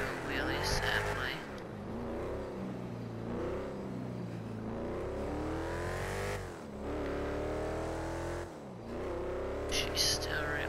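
A Halloween-themed car in GTA 5 drives and accelerates, its engine revving up and down in repeated rising sweeps with brief gear-change dips, loud and close under occasional quiet talk.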